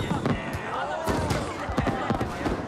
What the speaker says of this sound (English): fireworks explode in the air